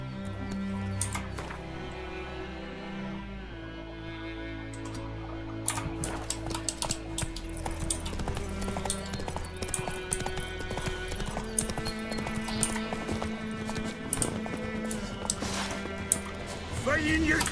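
Horse hooves clip-clop in steady rhythm while riding in the video game The Witcher 3, moderately loud amid game music, ambient effects and occasional talk.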